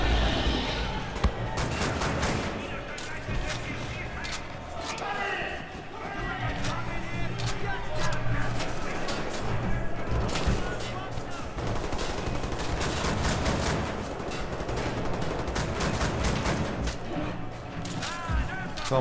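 Rapid bursts of gunfire from a weapon in the shooter Wolfenstein: The New Order, set in a prison, with dense repeated shots and some louder impacts through the stretch while a player talks excitedly over the action.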